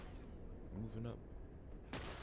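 Gunfire in The Last of Us thuds in muffled, distant bursts under steady game ambience, with someone speaking briefly in the middle.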